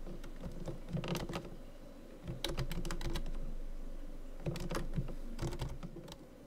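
Registration keys typed on a computer keyboard: bursts of rapid, close clicking keystrokes with short pauses between runs, alone with no talk.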